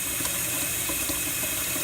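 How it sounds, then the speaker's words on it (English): Tap water pours steadily into a cooking pot in a home kitchen, a close, continuous rushing splash. "Fill up your pot with water, not a lot, maybe halfway"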